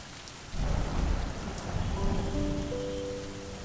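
Heavy monsoon rain falls in Mumbai during a taxi ride, a dense hiss of drops that starts suddenly and swells, while a low rumble of thunder rolls underneath and a steady tone emerges toward the end.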